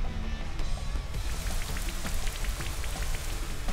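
Rain weather effect in a Pokémon video game: a continuous patter of falling drops with distinct droplet ticks scattered through it, steady and moderately loud.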